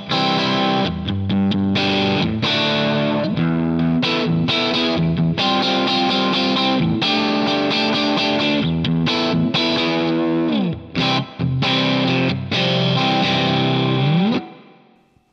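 Distorted electric guitar through an Axe-Fx crunch preset, loud and continuous with sustained chords and brief gaps, played alone with no talk.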